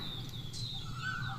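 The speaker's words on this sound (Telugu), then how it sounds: "బా పిట్టలు అరుస్తున్నాయి" Birds call beside a farm field, thin chirps and a few sliding whistles over a soft low background hum, faint and distant with no talking.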